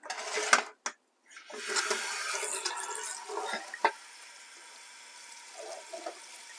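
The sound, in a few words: water running while washing beef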